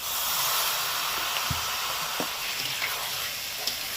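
Spices for a taro and fish curry sauté in hot oil, giving a continuous soft hiss and sizzle close by, with a few faint clinks of stirring.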